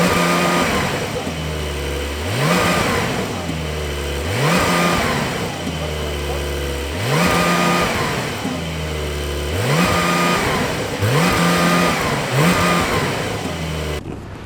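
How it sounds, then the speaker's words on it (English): A 992-generation Porsche 911 Carrera 4S flat-six revving repeatedly while driving, with rhythmic rising and falling surges through the gears heard from inside the car, steady and fairly loud. "driving the 992 Porsche 911 Carrera 4S"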